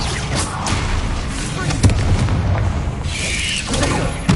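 A spell-cast explosion from the Bombarda blasting spell in a video game booms through a dense, noisy mix of rumbling blasts, with a voice speaking over it.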